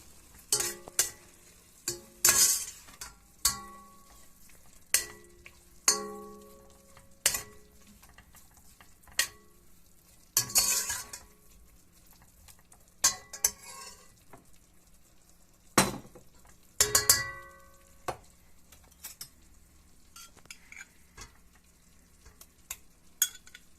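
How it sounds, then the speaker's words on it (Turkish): A spoon stirs pasta sauce with spices in a pan, giving repeated sharp scrapes and clinks against the metal at irregular intervals over a soft background sizzle, close and clear with no talk. "Şimdi tekrardan karıştırıyoruz."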